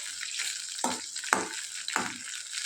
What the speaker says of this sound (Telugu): ఆయిల్ హీట్ అయిన తర్వాత రుచికి తగ్గట్టుగా పచ్చిమిర్చిని వేసుకొని బాగా వేయించుకోవాలి